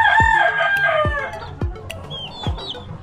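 Game fowl chickens in a backyard coop cluck and call, with a crowing rooster near the start and repeated short squawks and chirps close by, no talking.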